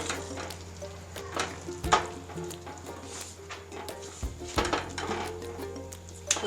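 Potatoes being stirred into a spiced chutney mixture in a pan for Bhavnagar-style bhungra bateta, with soft scraping, clinks of a spoon against metal and light sizzling, fairly close and steady.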